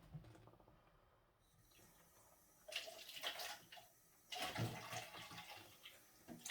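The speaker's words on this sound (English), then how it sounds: "So I've just rinsed the cup" A cup being rinsed under running water while hand dyeing roving, two bursts of splashing, gushing water separated by quieter gaps, heard close with no voices.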